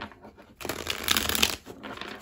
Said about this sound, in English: I'm gonna shuffle it, the cards twice, and then we start the reading